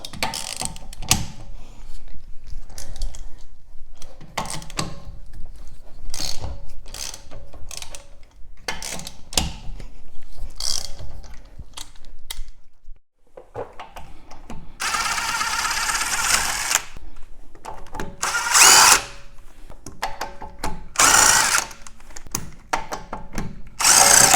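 A power tool with a 13/16 socket breaks loose the rear brake bolts on a 2005–2009 Kia Spectra, giving repeated loud, close bursts of whirring and ratcheting separated by short pauses and quieter handling noises.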